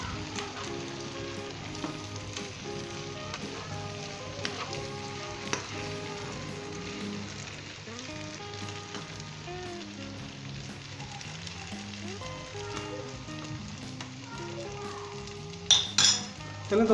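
Potato bhujia fries in a pan while being gently stirred, giving a steady sizzle with occasional utensil clinks against the metal, all under continuous background music.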